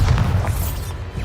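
A Bombarda spell detonating in Hogwarts Legacy, a deep booming blast with a rumbling low-end tail that decays over about a second.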